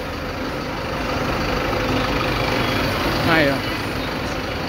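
An Apache Vip bus engine idling at the Magé bus station, a steady low rumble running throughout with a brief voice speaking over it.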